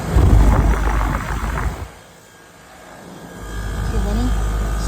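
A 2004 Trane XR11 central air conditioner of about 2 to 2.5 tons runs with a loud, steady whooshing fan roar. The roar dips sharply for a moment, then builds back up to full, constant running.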